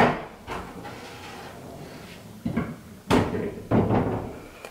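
Sliding barn doors inside a home are pulled shut, giving a few rolling slides and three distinct thuds near the end over a quiet, hissing room.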